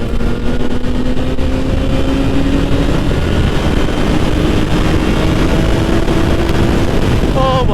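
Loud, steady roar of a Kawasaki Ninja ZX6R 600cc super sport motorcycle at highway speed, engine note rising slowly under heavy wind rush throughout.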